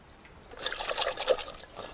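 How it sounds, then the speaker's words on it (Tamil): Dried red chillies are swished and rinsed in a vessel of water, a soft, close trickle and slosh of liquid lasting a couple of seconds. "இந்த வரமிளகாயை அலாசி எடுத்துக்கலாம்"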